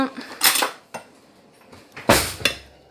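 A spoon clinks and scrapes in a bowl of seaweed tartare: a few sharp clatters, the loudest near the end, with soft handling noises in between and no talk.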